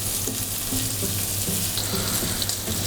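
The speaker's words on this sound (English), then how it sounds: "the guanciale start to become transparent and will start to release all the oil" Guanciale frying in a pan as it turns translucent and renders its fat, with a steady close sizzle and faint scattered pops throughout.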